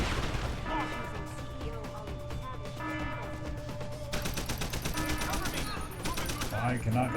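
Video game gunfire pops and crackles in dense, rapid bursts amid a busy battle mix of crashes and impacts, loud and continuous, with a voice speaking over the combat.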